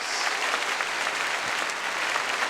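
A church congregation applauds in a dense, even wash of clapping that holds steady throughout the moment.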